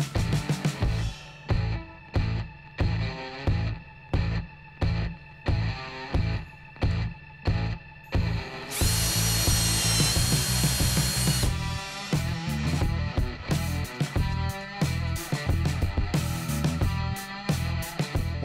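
Corded power drill boring into wood with a wood bit: a string of short whirring bursts in even rhythm, then one long loud continuous drilling run that eases into lower grinding, close and alone.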